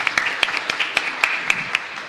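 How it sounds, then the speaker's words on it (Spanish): A congregation applauds during a Mass for San Isidro Labrador in Areguá, with sharp individual claps rising over a steady, dense patter of clapping for about two seconds. "Fuerte aplauso entonces"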